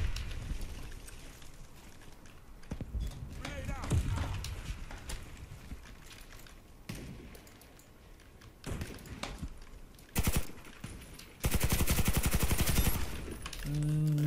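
Gunfire in the Warface shooter game, scattered bursts and single shots at varying distance, ending in a loud sustained burst of automatic fire.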